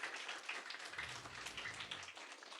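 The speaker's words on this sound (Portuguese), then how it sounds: "a quem eu quero que vocês aplaudam também" Audience applauding at a children's storytelling event in a school, a faint, steady patter of many hands clapping continuously without pause.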